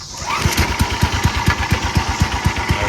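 Massey Ferguson lawn mower engine idling nearby, a pull-start mower putting out a steady, rapid rhythmic chugging throughout with no talk.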